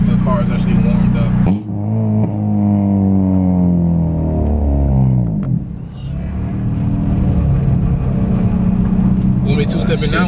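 Honda Civic Si on a two-step launch limiter, its exhaust holding a loud, steady rumbling drone near the microphone that dips briefly twice and then resumes.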